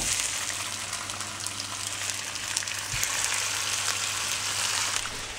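Homemade burgers fry in a pan with a steady, close sizzle and crackle that holds evenly throughout, with no talking.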